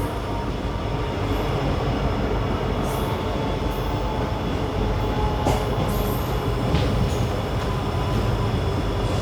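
An express train running on the Mangaluru–Bengaluru route, with a loud, steady roar of wheels on rail and carriage rumble throughout, with faint squeals and clatter rising now and then.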